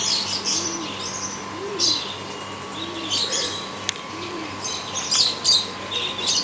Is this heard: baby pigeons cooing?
yes